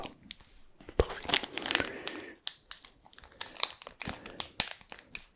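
Fresh purple modelling clay being squeezed and handled up close, with crisp crinkly, crackling bursts and soft squishes in an irregular rhythm, loud and near with quiet gaps between.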